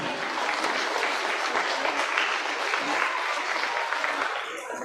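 A crowd at a youth livestock show applauds steadily and loudly, the dense clapping sustained for several seconds before tapering slightly at the end.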